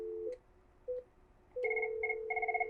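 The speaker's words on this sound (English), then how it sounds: "now you can see the fire chief's phone is ringing" A telephone on an air traffic control emergency conference test line rings after being called at its extension, giving a few electronic ring bursts that repeat in a steady pattern, close and clear with no talking.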